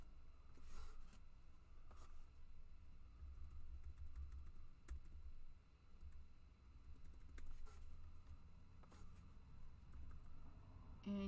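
Quiet, irregular clicking of keys on a computer keyboard during a stencil-design session, soft and close with brief pauses between bursts.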